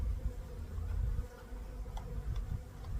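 Honeybees from a package being installed into a Layens hive buzz in a dense, steady drone close by, with occasional soft knocks and handling noises.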